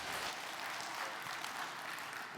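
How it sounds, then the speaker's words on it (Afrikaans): Audience hands clapping warmly in a church-style gathering, a dense, steady wash of applause filling the whole moment without pause. "Gee haar net 'n lekker hande klap."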